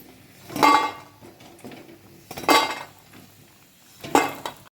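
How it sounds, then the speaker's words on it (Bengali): Fried cauliflower lifted from a pan, three separate metallic scrapes and clinks of a utensil against the cookware, spaced a second or more apart, with quiet stretches between. "ফুলকপিগুলো ভালো করে ভেজে নিয়েছি এবার তুলে দেব"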